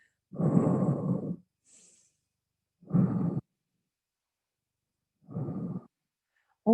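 Slow, audible breaths during a gentle French gym session, three long exhales of about a second each separated by quiet pauses, close and soft with no talking.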